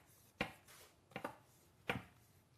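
A knife cuts thin slices of shiitake mushroom on a cutting board, with three distinct close chops spaced apart and quiet between them.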